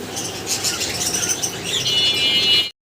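Diamond doves and other birds at a pigeon market, with wings flapping and soft chirps and coos blending into a steady, close, busy twitter that continues without pause.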